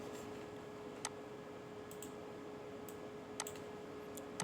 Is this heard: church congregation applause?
no